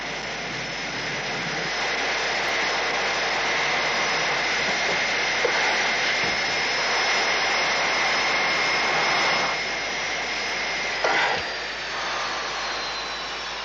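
A spacecraft's engines roar in a loud, steady, unbroken drone for the whole stretch, with no one speaking over it.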